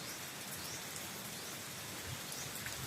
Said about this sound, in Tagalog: Ulan ngayon dito.